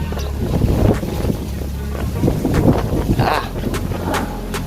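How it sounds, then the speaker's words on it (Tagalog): Strong, cold wind ahead of approaching rain buffets the microphone in a steady low roar at a mung bean harvest, with gusts rising and falling throughout and no voices. "lakas na ng hangin. Tapos malamig pa yung hangin."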